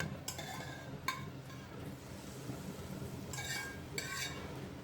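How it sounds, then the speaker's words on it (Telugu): Spoon scraping through citron pickle as a tempering of mustard seeds, cumin and dried red chilies is mixed in, with several short gritty stirring strokes over a faint steady kitchen hiss. "పోపు వేసాం కదా, ఇప్పుడు మనం మంచిగా కలుపుకుందాం."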